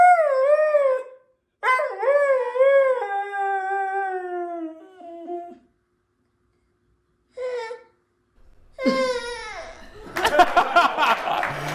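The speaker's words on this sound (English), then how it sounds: "After hearing the dog howl for a treat, the baby does the exact same thing." A dog howls for a treat in long rising and falling wails, then a toddler copies the howl with a voice of his own, followed by laughter and excited babble.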